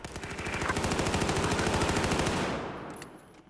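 Loud, rapid automatic gunfire in Battlefield 4 hammers away in a steady burst for a couple of seconds, then cuts off and leaves only faint trailing sounds.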